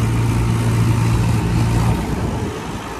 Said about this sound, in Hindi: भाई ट्रैक्टर तो पचास साठ पावर होगा